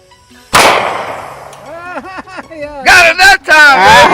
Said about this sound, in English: Shooting cans.